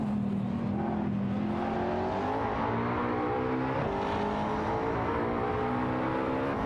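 McLaren 540C and Wiesmann GTM F5 race cars in a video game roar along together, engines rising steadily in pitch as they accelerate, a loud, continuous layered drone with no voices.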